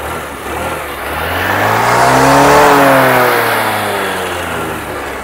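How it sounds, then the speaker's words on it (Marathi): A scooter engine revs up and back down after a drive belt repair, the rear wheel spinning freely, a loud close whine rising in pitch to a peak mid-way then easing off, with no talking. "तर फायनली चाक फिरायला लागलाय आपला."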